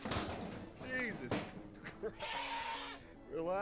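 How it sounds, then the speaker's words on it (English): A goat bleats in several wavering, nasal calls spread across the moment, with a thump and a person talking in between. "Is that a goat?"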